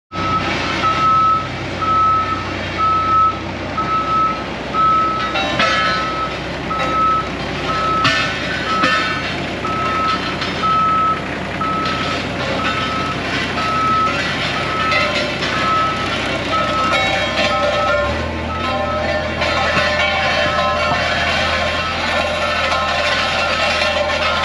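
A CAT roller drives out of a shop with steady, repeating reversing beeps over a continuous loud engine rumble that shifts lower near the end.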